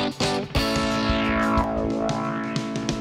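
Music through Soundtoys Radiator console-emulation distortion, saturated with a gritty, warm crunch, including a sweeping tone that bends down and back up, played loud and steady without any talking.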